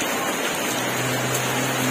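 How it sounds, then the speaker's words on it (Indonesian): Heavy rain pours around a passenger bus, making a steady dense hiss that holds evenly throughout with a faint low rumble underneath and no voices. "terik hujan yang lumayan sangat-sangat deras guys dari tadi pagi"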